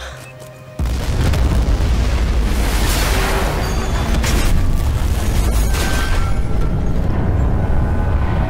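A huge explosion in the Battlefield 4 video game bursts in about a second in, then a dense, sustained roaring rumble holds loud and steady to the end.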